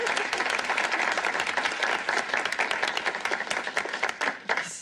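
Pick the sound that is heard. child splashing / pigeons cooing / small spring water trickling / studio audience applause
studio audience applause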